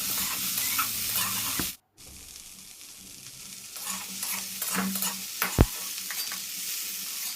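Broccoli being lightly fried in the same oil left from frying potatoes, with a steady close sizzle and stirring noises, briefly cut off near the start, then resuming with occasional louder clinks.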